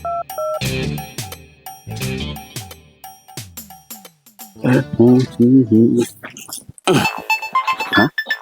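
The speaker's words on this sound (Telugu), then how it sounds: "కానీ ఫోన్ వస్తుంది" A phone rings with a repeating electronic tune of bright tones, stopping and starting, mixed with chiming notes and a voice briefly speaking.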